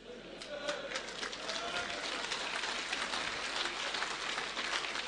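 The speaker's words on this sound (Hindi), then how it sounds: "तालियां बजा रहे हैं" A seminar audience applauds a motivational speaker, dense continuous clapping heard from a distance at low level, with voices blended underneath.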